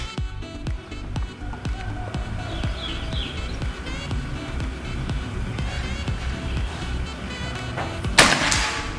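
A Predator Escobar PCP air rifle fires a single sharp shot near the end, preceded by a long stretch of outdoor ambience with chirping birds and faint clicks.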